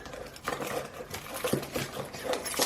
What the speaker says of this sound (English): You put your keys in there.